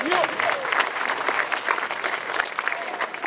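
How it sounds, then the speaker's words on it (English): An audience gives a round of applause for Delegate Lionel Spruill at a Virginia rights-restoration event with Governor McAuliffe, steady dense clapping filling the room throughout, with a voice briefly audible early on. "Give him a great round of applause here"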